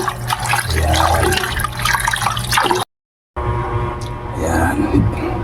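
Corn rice grits get washed with water, giving sloshing, splashing and trickling sounds that are loud and close, broken by a brief silent gap midway.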